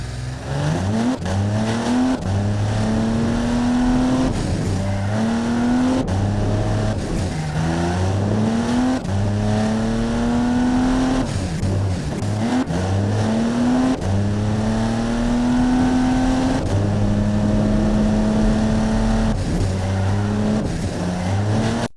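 A video game racing car engine, a 1960s light utility vehicle on a test track, revs up repeatedly through gear changes, rising and dropping in pitch over and over, loud and continuous with no talk.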